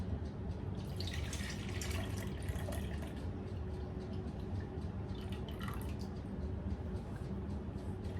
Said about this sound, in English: I'm going to pour off the marinade from the chicken breasts.